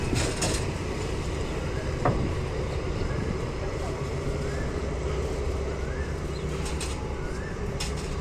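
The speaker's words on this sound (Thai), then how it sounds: "รถธรรมดาที่254นะครับสวนธนบุรีนะ" Ordinary passenger train 254 at Photharam station in Thailand, a steady rumbling rail noise with faint bird calls and light clatter throughout, heard from the platform.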